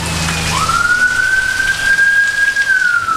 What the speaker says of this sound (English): Don't know how bad this rain is going to be